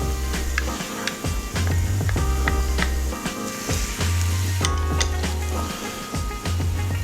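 Shrimp and a splash of wine, seasoned with Old Bay, sizzle in a hot pan with a steady, close frying hiss broken by repeated clatters of stirring.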